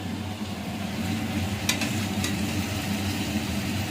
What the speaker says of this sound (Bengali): আলুটা প্রথমে ভেজে নিলাম